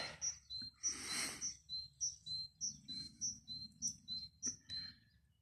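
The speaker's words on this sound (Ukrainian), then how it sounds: "Шпаки прилетіли." Starlings chirp and whistle on a sunny spring morning after a night frost, in an orchard by an apricot tree; bright repeated calls and short whistles come in a steady run of phrases, fairly near, with no talk.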